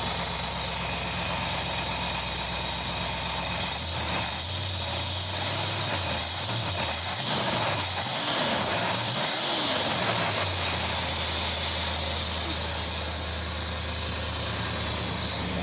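A 1964 Plymouth 440 wagon engine runs steadily at close range, idling with a low rumble and swelling through several revs in the middle before settling back to idle.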